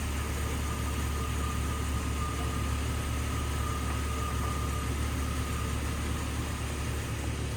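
A 1999 Jeep Cherokee with the AMC 4.0-liter inline six idles with a steady, even low hum and constant drone, no revving, heard alone.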